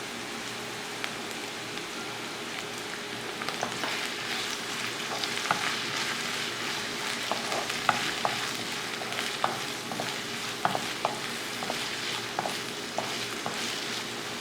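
Chopped onion and a sprig of curry leaves sauté in hot oil, giving a steady close sizzle that runs the whole time. Scattered clicks and scrapes from stirring break through the sizzle. Nobody speaks.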